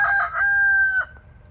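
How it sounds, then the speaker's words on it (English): A rooster crows once in the morning, a single loud, close cock-a-doodle-doo lasting about a second, with quiet background afterwards. "that rooster's sure enjoying being part of the show this morning."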